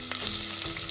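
Onions dropped into hot coconut oil in a pressure cooker sizzle loudly and steadily, a dense close frying hiss throughout.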